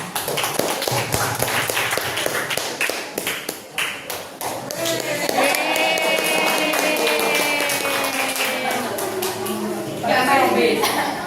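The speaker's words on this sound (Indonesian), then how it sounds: "tepuk tangan" Students clap their hands together in a classroom, a quick patter of many claps that runs for several seconds, with a voice talking over it and the clapping fading as speech takes over.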